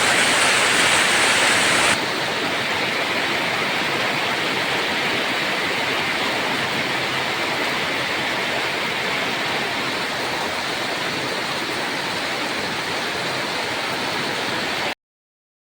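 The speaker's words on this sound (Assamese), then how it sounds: "ইমান ধাৰাসাৰ বৰষুণ আহিছে আজি পুৱাতে।" A heavy morning downpour roars steadily, flooding a courtyard; the dense, even wash of water stays constant and close, slightly louder in the first two seconds, with no voices.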